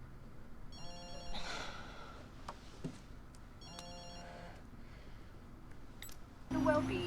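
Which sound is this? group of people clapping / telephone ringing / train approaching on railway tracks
telephone ringing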